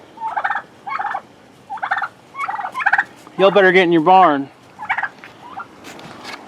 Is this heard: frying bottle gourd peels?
no